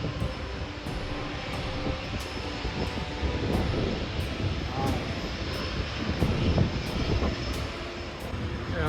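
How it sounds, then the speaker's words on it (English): Aircraft near an airport, a broad low roar rumbling steadily and swelling toward the end, heard at a distance from a roadside on a Mexico road trip with background noise and faint voices. "Sounds like an airport."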